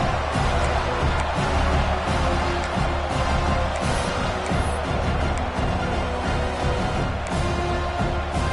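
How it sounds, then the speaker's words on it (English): Dense, steady roar of a stadium crowd at a college football game, Ole Miss, a loud continuous wash of many voices with no clear breaks. "wow, listen to this crowd noise"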